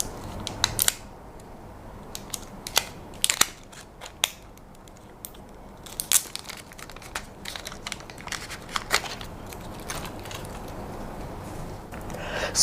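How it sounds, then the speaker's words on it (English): Protective film peeled off a Nubia Alpha smartwatch, giving scattered crisp crinkles and sharp ticks at close range over a quiet background, with no talking. "let me peel this off"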